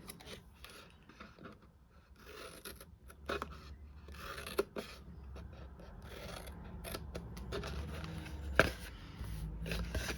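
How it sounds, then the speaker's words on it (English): Scissors snip through scored cardstock to free small flaps on a 3D candle wrap box, a series of quiet, close crisp cuts and paper rustles with a few sharper clicks. "just cut the score marks out so you created some flaps"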